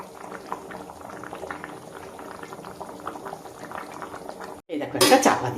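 Chicken and potato curry boils in a pot with a close, continuous bubbling that rises and falls, then a short silence and a loud metallic clatter as a lid or utensil meets the pot.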